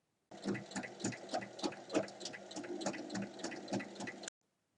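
A sewing machine runs a topstitch around the edge of a fabric bag, a quiet, steady rapid chatter of the needle lasting about four seconds before stopping, with no voices.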